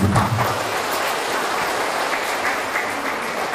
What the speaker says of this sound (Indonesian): Beri tepuk tangan yang begini.